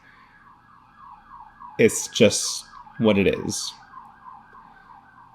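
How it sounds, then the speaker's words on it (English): A wailing emergency siren drones steadily in the distance throughout, out in a downtown Los Angeles street, with someone talking briefly over it. "you can hear the siren outside"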